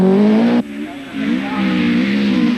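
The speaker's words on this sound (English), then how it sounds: "Toivonen's Talbot Sunbeam Lotus is spearheading the Coventry-based team's attack on the manufacturer's" A Talbot Sunbeam Lotus rally car runs a stage of the 1981 RAC Rally. Its engine holds a loud harmonic drone, cuts off abruptly, then rises and revs again, close by.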